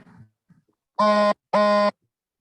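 Two identical electronic phone message notification chimes in quick succession, bright and harmonic, each lasting about a third of a second, following a short murmur.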